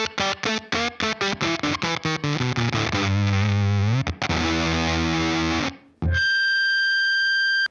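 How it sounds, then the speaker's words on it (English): Guitar through a Supercool op-amp Big Muff style fuzz pedal: rapid chugging palm-muted notes, then long saturated sustained chords, closing on a high ringing tone, loud and close. "you can get those awesome fuzz face sounds with a nice, super saturated and stable fuzz"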